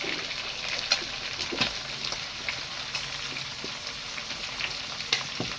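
Onions frying in a pan for a liver and gizzard dish, giving a steady soft sizzle with occasional light stirring clicks, moderately close and without talk.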